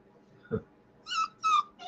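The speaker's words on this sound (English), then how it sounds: "I just want to show the viewing audience a brand new little doggy." An eight-week-old puppy gives a few short, high whimpers in quick succession after a brief low rustle, close and fairly soft with no talking.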